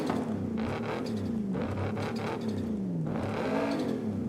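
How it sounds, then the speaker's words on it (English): A tuned SUV engine in Forza Horizon 5 with loud induction and turbo sounds, revving up and down in repeated rising sweeps, loud and close with no talk. "Made the induction sound and the turbo sound much louder."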